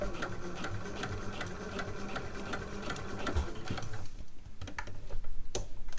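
A sewing machine runs a straight stitch around a caftan neckline, giving a rapid, even mechanical whir that runs for a few seconds and then slows into looser ticking near the end.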